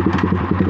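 A Yamaha R15 M motorcycle fitted with an SC Project full-system exhaust runs with a loud, close, throbbing engine note. A quick, uneven pulse crackles through the steady rumble.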